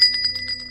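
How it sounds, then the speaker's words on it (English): A gas station door chime gives a quick series of bright bell-like rings that fade out, clear and close, alone with a faint low hum behind it. "The chime rang out"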